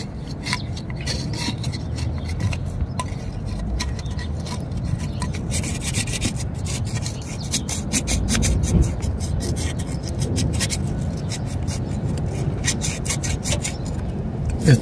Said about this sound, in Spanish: Esto que estoy lijando, ahí es donde va a correr